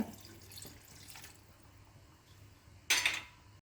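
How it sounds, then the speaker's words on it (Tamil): A small amount of water is poured into a blender of sautéed ingredients for an Indian fish curry, a quiet trickle ending in a short, louder splash close by. "கொஞ்சமாக தண்ணி ஊற்றிக்குங்க."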